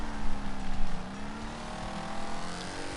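A car drifting in the racing game Wreckfest, its engine holding a steady droning pitch over rumbling noise, loudest in the first second and then easing to a constant hum.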